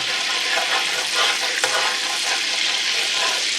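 Butter melts in a hot pan for a roux, giving a loud, even, continuous sizzle with a soft crackle throughout and a single faint click partway through. No one speaks.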